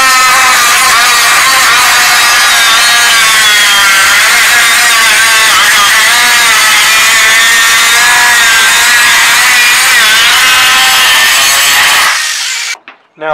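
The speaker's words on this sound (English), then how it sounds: "get the angle grinder out, cut a little 10 by 10 slot, screw it on, rivet it on," An angle grinder cuts a slot into the sheet-metal floor pan of a Jeep, giving a loud, continuous high whine that holds steady for about twelve seconds before cutting off abruptly.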